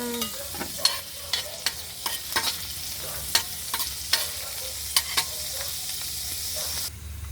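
Garlic sautéing in a pan for chicken adobo in coconut milk, a steady sizzle punctuated by repeated sharp spatula scrapes and taps at an irregular rhythm.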